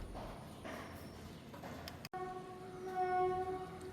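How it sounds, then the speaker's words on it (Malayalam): A train horn sounds near a railway station: a loud, sustained, multi-tone blast begins about halfway through and holds steady to the end, preceded by general outdoor rumble and a brief dropout. "ട്രെയിന് ഹോൺ അടിക്കുന്ന സൗണ്ടാട്ടോ കേട്ടതിപ്പോൾ"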